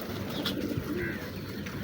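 Pigeons kept by a fancier for show coo softly a few times. The soft, low calls sit faintly over a quiet room tone, with a light chirp or rustle in between.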